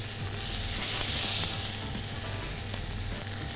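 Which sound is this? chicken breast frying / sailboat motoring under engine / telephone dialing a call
chicken breast frying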